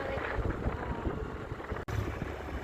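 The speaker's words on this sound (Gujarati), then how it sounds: "ઠંડો પવન આવે છે, પાણી આવે." Cold wind blows beside a village lake and buffets the microphone in a steady, rough, close rumble with a brief dropout near the end.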